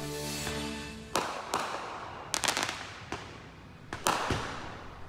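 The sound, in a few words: fireworks booming in the neighborhood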